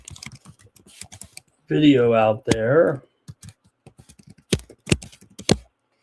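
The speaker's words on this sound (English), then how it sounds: "Pardon the typing in the background" Keyboard typing clatters in the background, rapid irregular key clicks running through most of the stretch, briefly interrupted by a voice speaking and resuming with sharper strokes near the end.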